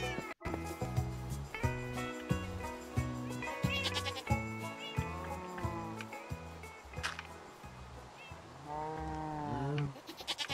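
Cats meow in a Minecraft farm scene, several short mews over steady background music that plays throughout.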